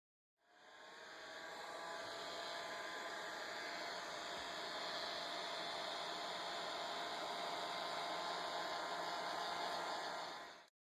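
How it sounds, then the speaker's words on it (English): Heat gun or hair dryer blowing to shrink a heat-shrink tube over a battery, a steady whooshing hum that switches on, runs evenly for about ten seconds, then cuts off. "Apply heat to a shrinkable tube after inserting the battery using a heat gun or hair dryer."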